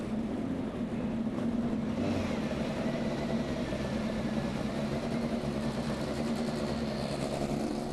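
Indy NXT race car engines fire up and idle at the Music City Grand Prix, making a steady, droning mechanical hum that holds for several seconds. It has a faint rising tone and no talk.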